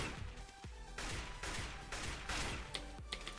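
AK rifle gunfire in the video game CS:GO, several sharp, loud single shots in quick succession with short gaps between them, heard close with no voices over them.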